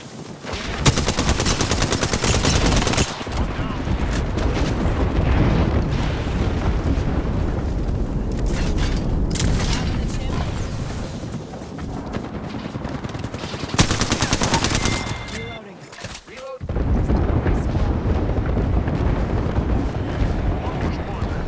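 Artillery barrage in the video game Apex Legends, a dense, continuous roar of rapid blasts and booming impacts filling nearly the whole stretch, with a brief drop-off before the shelling resumes loudly.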